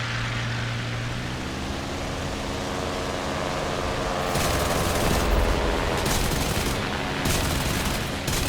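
A Bf-109 F-4 fighter's added 15 mm cannons fire on a B-25 bomber in the War Thunder flight game. A steady engine drone gives way to several loud bursts of rapid cannon fire in the second half, with no talk.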